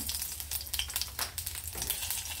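Ghee and mustard seeds sizzling and crackling steadily in a hot pan while cooking dal, a dense close frying hiss with small popping spatters throughout and no talking.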